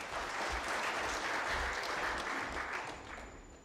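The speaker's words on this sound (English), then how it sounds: "a better round of applause for Registrar" Steady applause from an audience, continuous and even, tapering off toward the end.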